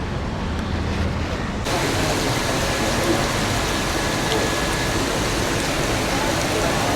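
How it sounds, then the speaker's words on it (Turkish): Heavy tropical rain in Singapore starts pouring again, a dense hiss that jumps louder after a couple of seconds and then holds as a steady, close downpour, with no talking. "yağmur dindi, yağmur gitti, çok daha kötüsü geri geldi"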